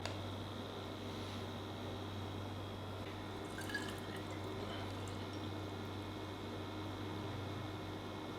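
Cold-pressed juice of kale, celery and herbs with ginger and turmeric dripping into a jug, a quiet steady trickle and light drips over a constant machine hum.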